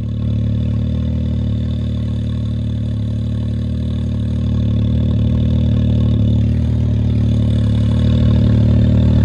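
A 200 HP snowmobile idles steadily on a snowy hill-climb slope, its low engine drone close and continuous, swelling slightly louder in the second half as if beginning to rev.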